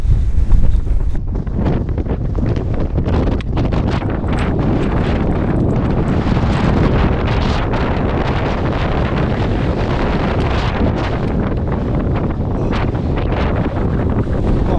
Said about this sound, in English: thought that wind might have calmed down a bit, but it doesn't seem to at all